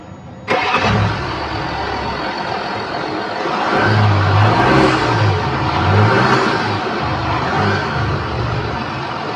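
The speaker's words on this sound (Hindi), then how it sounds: "आइए डीजल इंजन की साउंड सुनते हैं।" A Range Rover with a 3.0 Ingenium diesel engine starts abruptly, settles into a close, steady idle, then is revved twice in smooth rising and falling swells before dropping back to idle.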